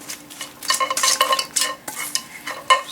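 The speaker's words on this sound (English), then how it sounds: "Just mix all together." Seafood Caesar salad being tossed and stirred in a bowl with utensils, close clinking and rustling scrapes in uneven bursts, no voices.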